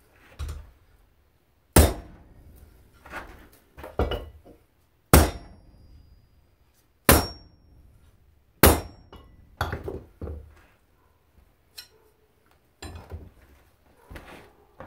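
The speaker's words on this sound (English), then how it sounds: "Set it across your anvil so that the tip of the knife hangs off the edge." Hammer blows on a knife blade resting across an anvil with the tip hanging off the edge, a handful of sharp metallic strikes at irregular intervals, close and loud, with lighter taps and clinks between them.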